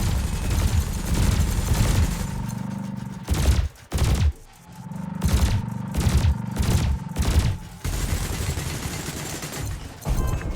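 Cannon and laser fire from the space combat game Elite Dangerous makes loud, rapid bursts of repeated booming shots, broken by a few short pauses between volleys.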